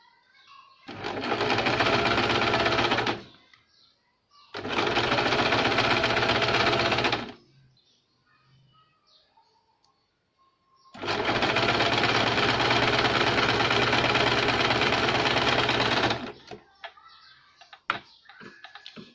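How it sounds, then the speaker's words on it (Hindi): An electric sewing machine stitches double katori blouse fabric in three loud, steady runs, each a few seconds long and separated by short quiet pauses, with no talking. "नीचे की तरफ से हमें सिलाई लगाएंगे इस तरह से"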